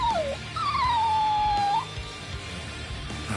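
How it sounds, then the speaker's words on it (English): A stray dog in the anime video game Bleach Soul Rebirth lets out a high, drawn-out whimper that slides downward, heard clearly over a faint background score. "We thought it was just a stray dog."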